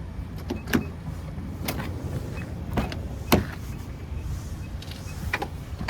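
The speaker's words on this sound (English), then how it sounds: "you can fold the seats down and slide them up" Second-row seats in a 2015 Nissan Quest SL minivan being folded and slid, heard as a few sharp mechanical clunks and latch clicks spaced through a low steady cabin hum, with no talking.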